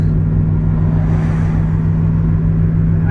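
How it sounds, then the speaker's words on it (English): Heavy truck slowly grinding up a steep mountain pass, a deep, steady engine drone with a strong low hum and road rumble, heard from a nearby vehicle following behind, continuous with no talk. "So that truck must have been really heavy. It's going like 20 miles up this hill."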